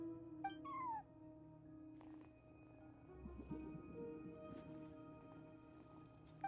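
A cat sits at a front desk in Genshin Impact and gives a single short, faint meow near the start, over a quiet, steady game ambience with a low hum.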